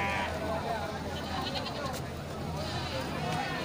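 A goat bleats a few times amid a noisy crowd at a goat market, with people talking throughout over steady background chatter.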